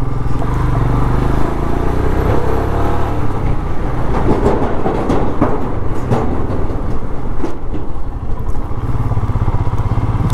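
A vehicle rumbles across an old, badly worn iron bridge on a mountain road in Spiti at night, making a loud, continuous clattering roar with scattered metallic knocks and no voices.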